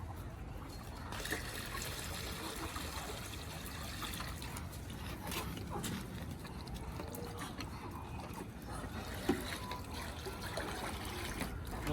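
Water being poured out for birds, a faint continuous trickle under a steady background hiss lasting the whole stretch, with no talk.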